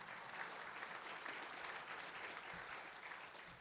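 Audience applause for an administrative assistant at a community evening event, a steady dense wash of many hands clapping at moderate distance, sustained evenly throughout without talk.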